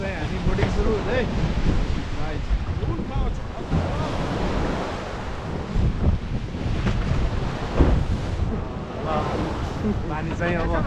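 Water washing and wind buffeting during a boat ride in South Korea, a steady close rushing wash with gusty wind noise on the microphone throughout, with voices talking over it.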